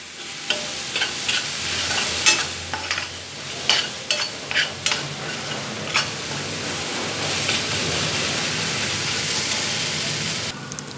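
Mustard greens stirred into fried onion and tomato for Punjabi sarson ka saag. A steady, close sizzle runs throughout, with irregular clatters and scrapes of a spoon against the pan.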